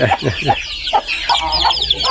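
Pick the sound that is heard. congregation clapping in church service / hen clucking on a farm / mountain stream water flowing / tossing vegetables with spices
hen clucking on a farm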